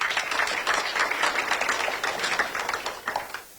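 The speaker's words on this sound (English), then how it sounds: "if everyone would please give them a round of applause also" Audience applause at a community meeting on data centers in Northern Michigan, a dense wash of clapping from a roomful of people that stays even and then tapers off near the end.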